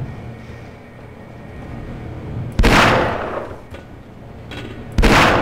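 Gunfire in the video game Half-Life: two sharp, loud blasts a couple of seconds apart, each tailing off with a short decay, over a steady low rumble of background noise.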